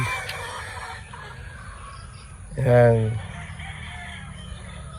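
A small flock of three hens and one rooster makes faint, scattered clucks in the background while someone talks near the microphone, and one short, loud, harmonic call rises clearly above the rest partway through.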